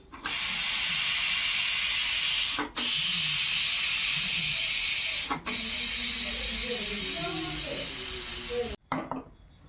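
A pressure cooker cooking old Gobindobhog rice vents steam in a loud, continuous hiss, cut off briefly a few times, while people talk quietly underneath.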